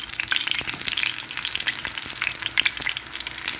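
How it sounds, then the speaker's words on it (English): Breadfruit fries in hot oil in a pot, giving a dense, close crackling sizzle with scattered pops and occasional stirring scrapes, steady throughout with no talking. "See, so you're catching the flavor, and then just frying the breadfruit."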